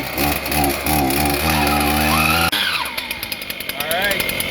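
A water-cooled core drill grinds into shale in a creek with a loud, steady motorized whine. The pitch shifts partway through, and a voice speaks over it.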